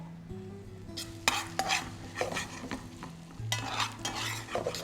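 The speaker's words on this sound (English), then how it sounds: "to that we're going to add the carrot, the garlic and the onion" Diced carrot, garlic and onion fry over high heat in butter and oil in an ovenproof pan, sizzling close up while a utensil stirs and scrapes in bursts.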